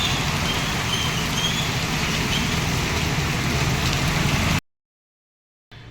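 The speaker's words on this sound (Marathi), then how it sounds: "पण पहिला पाऊस आहे आणि चांगलाच आलाय बघा." Steady heavy first rain of the season pouring down outside onto a waterlogged village street, a dense continuous hiss close by with no voices, cutting out abruptly into near silence before faintly resuming at the very end.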